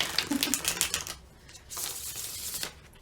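Rapid riffling clatter of cards being shuffled, a dense crisp flutter that pauses briefly and resumes, close and fairly loud.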